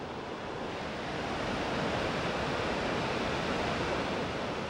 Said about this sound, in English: Every minute, several 100 million litres of water fall into the abyss.